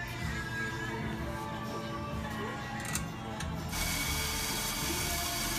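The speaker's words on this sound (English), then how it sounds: "Now, let's go to the grinder." Coffee grinder in a home espresso setup, running as a steady mechanical whir with a brief shift in pitch partway and a louder, brighter stretch toward the end, heard close by without talk.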